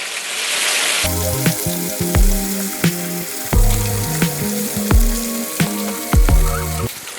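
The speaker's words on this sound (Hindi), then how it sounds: "ये मछली एकदम हमने फ्राई कर ली है।" Fish frying in a pan of hot oil, a steady loud sizzle and crackle running throughout with bursts of spattering and stirring clatter, close by and with no talk.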